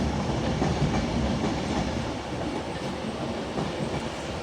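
LNER Azuma passenger train approaching Carlisle station on the West Coast Main Line, a steady broadband rumble of wheels and rail noise with faint clickety-clack, constant and fairly close throughout with no talk.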